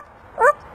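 A person imitates a dog's bark on command, giving one short, bright yip-like bark over quiet background.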